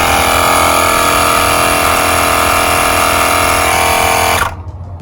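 Loud, steady motor hum of an air pump inflating a car tire, running continuously with a constant whine before cutting off abruptly near the end.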